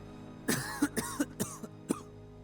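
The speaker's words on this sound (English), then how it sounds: "heard the coughing next door" A person coughs in a quick series of about six harsh, close coughs within a couple of seconds.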